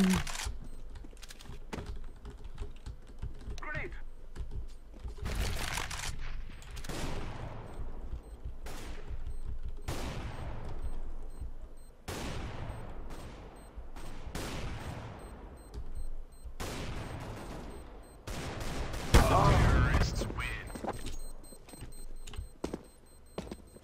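Counter-Strike: Global Offensive match: sharp gunshots and short bursts of fire spread at irregular intervals, some close and loud, mixed with clattering keyboard taps.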